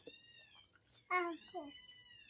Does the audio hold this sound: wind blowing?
no